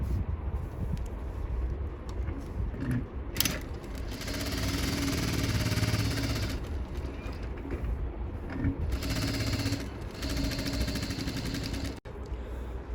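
A sewing machine runs a dummy stitch around a sleeveless blouse, whirring and rattling steadily with fast mechanical ticking and a few brief pauses, close by.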